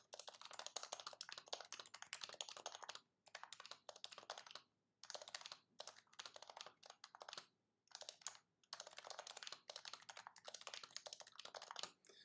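Someone types on a Bluetooth Topre-style keyboard fitted with Sony BKE domes: quiet, muted keystrokes in quick runs, broken by short pauses, with nothing else heard.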